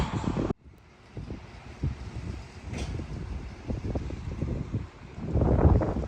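Steady wind buffets the microphone outdoors, with low rumbling gusts and rustling that swell louder toward the end.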